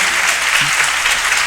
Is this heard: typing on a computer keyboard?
no